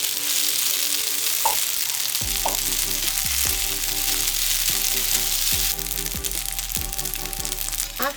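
Yakisoba noodles fry in a pan, giving a steady, dense sizzle throughout, with occasional scraping and tapping as they are flipped and pressed to brown.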